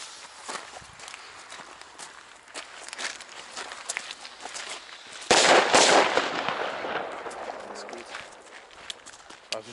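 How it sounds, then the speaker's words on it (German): A sharp bang from a Di Blasio Elio Cobra 6 firecracker rings out midway, followed by a lingering noisy tail, with scattered crackles, footsteps and faint voices around it outdoors. "F2 sollen ja momentan die lautesten Böller sein."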